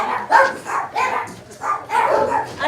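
Dog barks repeatedly in short bursts, fairly loud and close, with a few yips mixed in and no talk over it.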